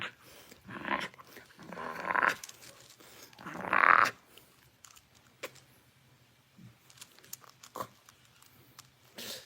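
A Doberman growls and snuffles in play, with a few louder throaty growl bursts early on, then quieter panting, huffs and small mouth sounds close by.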